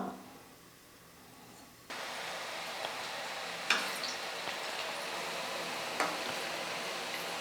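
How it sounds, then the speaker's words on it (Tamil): Urad dal murukku dropped into hot oil: after a quiet, near-still opening, a bright, even hiss of frying suddenly rises and holds steady, broken by a couple of faint pops and taps. "இப்போ நம்ம சுற்றி வச்சுக்கிற முறுக்கு வந்து எண்ணெயில் சேர்த்துக்கலாம்"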